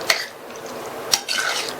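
Curd being stirred into aviyal in a metal pan: a few scraping, clinking strokes of a spoon against the pan, separated by short pauses, close and fairly quiet, with no talking.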